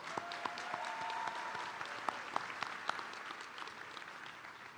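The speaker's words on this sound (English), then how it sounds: "Let's give one more round of applause for the class of 2026." Applause for the graduating class at a high school graduation, many hands clapping in a steady, fairly distant wash with several sharp individual claps standing out close by.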